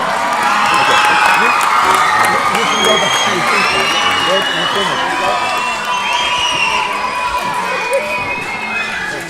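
Loud crowd noise at a school young people's concert, children shouting and cheering over clapping for teachers who danced the mambo, an energetic continuous roar throughout with voices mixed in.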